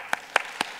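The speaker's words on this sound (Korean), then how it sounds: "진짜 내 여러분들 박수 쳐드리고 싶어요" Four sharp, separate hand claps, evenly spaced and fairly close, ring out in a quiet church sanctuary during a late-night worship service, with no talking between them.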